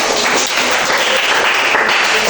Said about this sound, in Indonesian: Terus, tepuk tangan berikan.